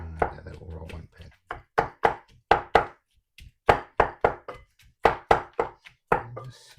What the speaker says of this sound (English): Make sure you smash through that garlic